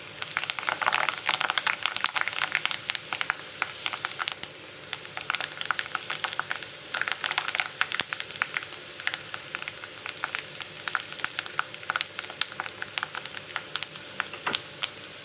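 Pieces of fish kebab frying in hot oil, a continuous crackling sizzle with rapid irregular pops, close and fairly quiet, with no voices.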